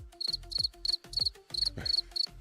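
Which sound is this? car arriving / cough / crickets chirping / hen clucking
crickets chirping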